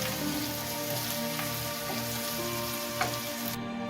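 A spicy plant-based sausage fries in a pan, giving a dense, even sizzle that holds steady from start to finish with a few faint stirring clicks, close by and unaccompanied by talk.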